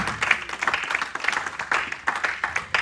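A church congregation claps steadily in praise during a French-language sermon. The applause is close and fairly loud, with a quick, even rhythm of many hands that carries on throughout.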